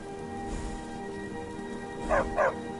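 A trained war dog in Skyrim, a fantasy role-playing game, gives two quick close barks near the end, over a quiet, humming background.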